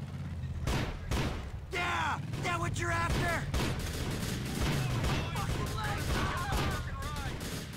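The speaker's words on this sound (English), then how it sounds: "And we're immediately shooting." Gunfire in GTA 4: The Lost and Damned, a steady stream of shots through a chaotic firefight, loud and continuous under shouting and other game noise.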